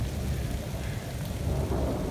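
Rain in a thunderstorm pours down hard and steady, a dense hiss with a low rumble beneath.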